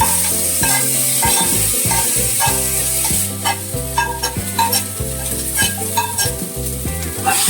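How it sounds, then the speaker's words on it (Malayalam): Onions, tomatoes and green chilies fry in a pan while being stirred, a steady sizzle with rhythmic scraping strokes under prominent background music. "എന്നിട്ട് നല്ലപോലെ ഇളക്കിയെടുക്കാം."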